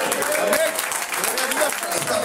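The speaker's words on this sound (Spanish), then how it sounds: "Dar un aplauso a Dios, por favor." An audience in a church service claps together in steady applause, a dense patter of hands at moderate loudness with voices mixed in.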